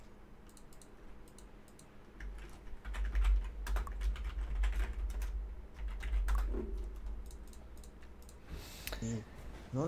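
Rapid typing on a Hiditech non-mechanical membrane computer keyboard, steady soft clicking keystrokes running through most of the stretch close to the mic, over a low hum, with a brief spoken word.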